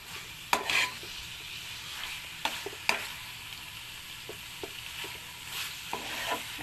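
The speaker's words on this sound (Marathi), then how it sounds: "आता चिकनला छान ग्रेव्हीमध्ये परतून घेतलेलं आहे" Chicken in onion-tomato gravy sautéing for chicken sukka, a soft continuous sizzle up close punctuated by a few sharp spoon knocks and scrapes against the pan, with nobody speaking.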